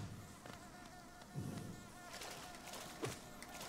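Bees buzzing in the Hollow Knight video game, a continuous insect drone with swelling passes layered over low ambient game sound, faint and steady throughout.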